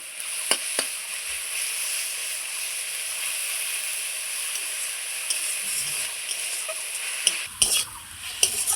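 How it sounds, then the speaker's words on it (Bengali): Boiled lafa greens, a thin leafy vegetable, are stir-fried in a pan, with a steady sizzle and frying hiss throughout and occasional scrapes and clinks of a spatula stirring against the pan. "এই যে এখন আমি ভেজে নিচ্ছি শাকটা খুব সুন্দর করে।"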